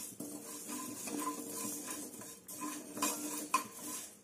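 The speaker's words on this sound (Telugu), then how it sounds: "ఇప్పుడు వీటిని మాడిపోకోకుండా గరిటె తీసుకొని కలుపుకుందాం" Cumin seeds are stirred with a metal ladle in a large kadai, producing repeated close scrapes and clinks of metal on metal over a faint sizzle.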